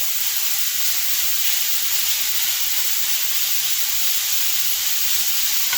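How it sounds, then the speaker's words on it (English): Food browns in a hot cast iron pan over medium-low heat, giving a loud, steady, close sizzle and hiss that runs unbroken throughout, with no voices. "And I'm going to start browning this up."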